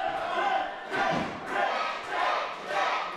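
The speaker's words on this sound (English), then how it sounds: "The crowd coming alive here, echoing around the West End Club" A wrestling crowd at the West End Club roars and cheers in echoing surges, swelling in repeated waves about every second or so, loud and reverberant with no clear single voice.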